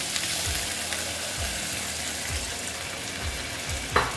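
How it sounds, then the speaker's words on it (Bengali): Pointed gourd curry with cottage cheese cooks in a pan as water is added, giving a continuous close sizzle broken by regular scraping stirs about once a second and a small clink near the end. "এখন আমি একটু জল অ্যাড করে দিচ্ছি।"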